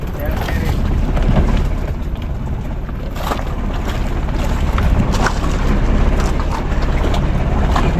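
A boat's engine drones steadily throughout, mixed with wind buffeting the microphone and water noise, with faint voices under the rumble.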